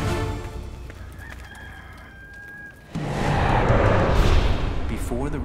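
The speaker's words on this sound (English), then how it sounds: "Before the rooster crows tomorrow morning" A rooster crows once, a short rising call partway through, with people talking before it and a louder, noisy scene breaking in afterward.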